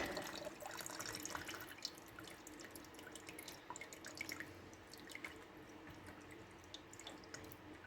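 Diesel drains out of the fuel filter of a 1996 Daihatsu Fourtrak in a trickle with scattered drips and splashes, faint and close, running steadily without any voices.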